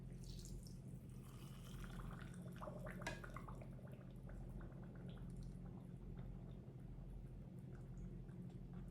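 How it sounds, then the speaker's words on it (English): Steady low churning of liquid with small wet pops and gurgles, continuous and fairly close, no voices. "It's bubbling."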